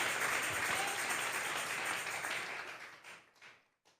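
A church congregation claps loudly in dense applause as an offering of praise, the sound steady at first and then tapering off into a few scattered claps near the end.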